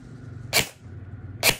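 An airsoft 416 rifle fires during a chronograph test, two sharp bursts of a shot roughly a second apart over a low background hum.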